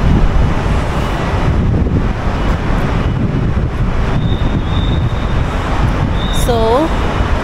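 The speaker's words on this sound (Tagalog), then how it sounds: "Ang sarap ng hangin dito." Steady wind at Merlion Park, Singapore, buffets the microphone with a broad low roar throughout, with a brief bird chirp near the end.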